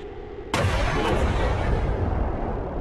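A single sharp gunshot from the video game XCOM 2: War of the Chosen cracks loudly, followed by a rumbling, decaying roar that lingers for a couple of seconds.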